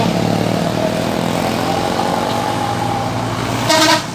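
A PMO bus rolls past on a road near Pandau Jaya, Pasir Putih, its loud broadband engine and tyre roar steady throughout, with a short horn toot near the end.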